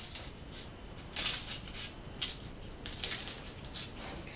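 A utensil scores homemade barnitsa in a metal baking pan, making scattered crisp scrapes and clicks against the metal that come as short bursts, fairly faint and close.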